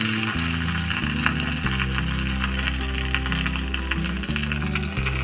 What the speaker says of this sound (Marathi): हे सर्व टाकून घ्यायचं या पॅनमध्ये आणि व्यवस्थित असा तडका देऊन घ्यायचा.